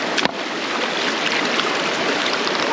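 Rough rocks being dipped and swished in water while hunting for Dallasite, giving a steady close watery wash with a brief splashy knock near the start.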